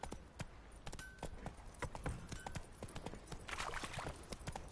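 Roach, a horse in The Witcher 3 video game, trots along with a quick, even series of clip-clopping hoofbeats at close range, fairly quiet, with a faint snort late on.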